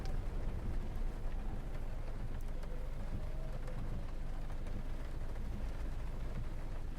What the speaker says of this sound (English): you can hear the rain more clearly